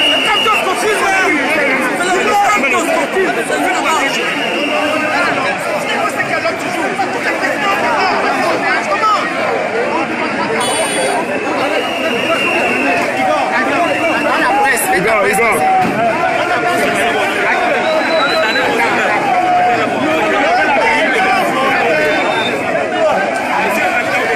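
A large crowd chatters steadily at a political rally, a dense continuous babble of many voices filling the space, with no single speaker standing out.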